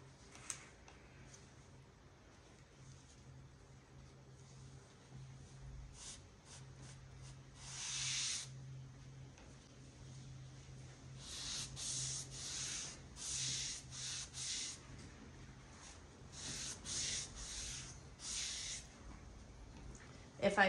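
Foam brush applying and wiping whitewash on a wooden antique buffet, heard as a series of soft, hissing rubbing strokes in short bursts separated by pauses, with a low voice at times.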